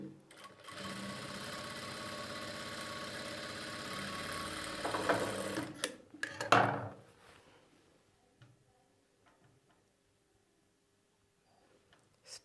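A sewing machine stitches lining onto the main fabric, running in a steady close whir for about six seconds before it stops, followed by a few soft handling noises in near quiet.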